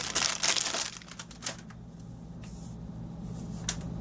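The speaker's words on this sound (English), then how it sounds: "I'm going to run my 1/2 inch score tape" Half-inch score tape is peeled and pressed onto cardstock, with a close crinkly peeling burst at the start, then quieter rubbing and a faint tap, and no talking.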